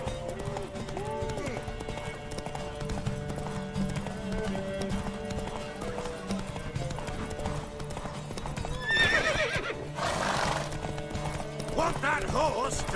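A horse in The Witcher 3 video game trots with steady clip-clopping hooves and neighs clearly, against game ambience and voices.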